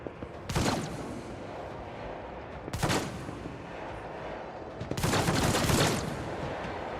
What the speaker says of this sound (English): Good shooting, guys.